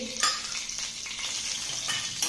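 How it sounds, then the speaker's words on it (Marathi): Hot oil sizzles and crackles steadily in a well-heated appe pan as it is added to each mould for oats appe; the frying hiss is close and fairly loud, with no talking. "इथे आप्प्याच्या प्रत्येक साच्यामध्ये मी तेल घालून घेत आहे। आप्पे पात्र चांगलंच गरम झालेलं आहे"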